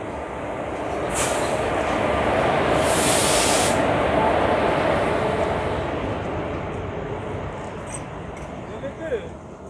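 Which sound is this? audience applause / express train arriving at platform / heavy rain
express train arriving at platform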